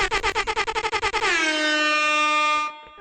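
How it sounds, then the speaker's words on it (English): A rapid string of short air horn toots builds into one long, loud sustained blast that cuts off abruptly. "Definitely gotta blow the air horns"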